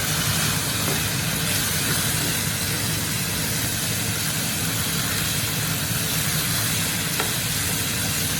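Peppers and onions fry together in a pan, giving a loud, steady sizzle with soft stirring that runs unbroken from start to finish, with no voices.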